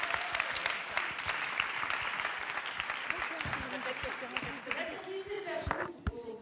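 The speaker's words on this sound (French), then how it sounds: "On peut l'applaudir encore une fois." Live audience applause at a Cap 48 charity show, continuous clapping that thins toward the end as a voice begins speaking over it.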